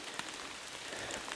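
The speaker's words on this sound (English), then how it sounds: "since it's raining" Rain falls on a hiking trail, pattering steadily on surfaces and a pack cover with scattered close drops and no voices.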